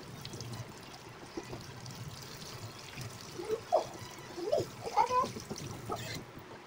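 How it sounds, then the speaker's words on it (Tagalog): Water is poured into the tank of a new air cooler, a soft trickle and splash that comes in a few brief bursts over faint room noise, near and fairly quiet. "Ito guys, lagyan muna natin siya ng tubig."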